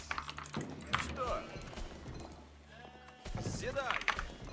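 Sheep bleat in a video game, several short bleats scattered across the clip, mixed with keyboard typing and people talking quietly nearby.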